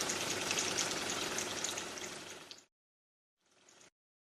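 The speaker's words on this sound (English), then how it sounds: "The appliance carries out an automatic descaling procedure that takes approximately 15 minutes." A De'Longhi coffee machine runs its descaling cycle, with water hissing and spluttering steadily out of the steam nozzle, cutting off, then a brief fainter burst after a pause.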